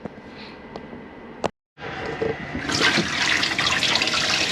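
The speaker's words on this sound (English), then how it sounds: "This is just showing that your hot water is now working and getting up to temperature." Hot water runs from a tap in a 2018 Elddis AutoQuest 196 motorhome, a steady hiss that swells louder after a brief silent gap, heard alone and close.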